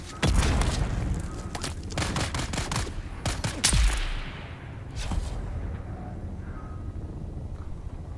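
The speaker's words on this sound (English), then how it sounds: "Grenade!" In the video game Dune Awakening, a burst of rapid gunfire with sharp cracks and a heavy boom from a grenade erupts up close, then fades into quieter ambience and a few distant shots.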